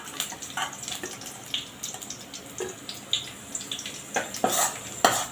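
Onions fry in a pan for paneer masala, a soft crackling sizzle broken by frequent light clicks and scrapes of a spoon stirring.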